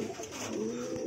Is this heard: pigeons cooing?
yes